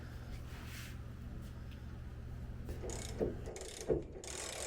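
A hand ratchet unbolts the CV shaft on a 2018 Ford F150 during a front four wheel drive actuator job, its faint clicking sitting over a steady low background hum, with a couple of sharper knocks near the end.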